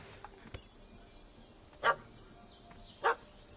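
A puppy gives two short, sharp barks about a second apart, faint and somewhat distant against quiet background with a few small clicks.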